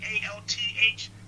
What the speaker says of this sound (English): That's somebody's phone?